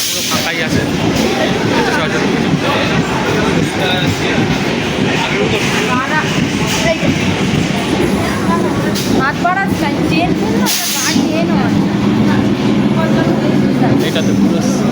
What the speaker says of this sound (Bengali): ট্রেন ঢুকে গেছে আমাদের সোনারপুর লোকাল।